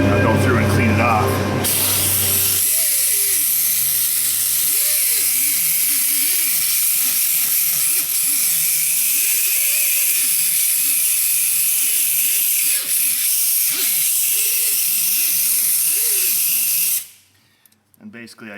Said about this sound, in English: And I'll just spray it because it helps clean the surface good.